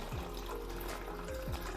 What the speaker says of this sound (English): you just take your glass and then fill it